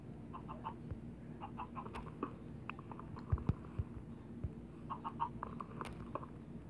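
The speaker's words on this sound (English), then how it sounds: "Let's see, chickens." Video game chickens cluck in short scattered bursts against a steady background hum, with a few sharper clicks and no talking.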